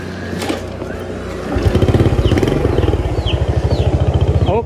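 A small motorcycle engine runs up close, shifting from a steady idle into a loud, rapidly pulsing putter as the ride gets going, with faint chirps in the background.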